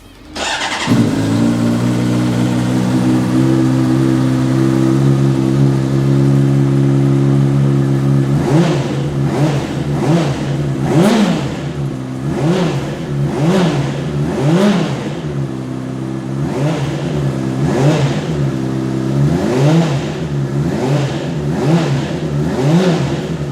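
A Honda CBR600RR sport motorcycle fires up with a short starter whir, settles into a steady close idle, then gets a series of sharp, repeated throttle blips that rise and fall rhythmically.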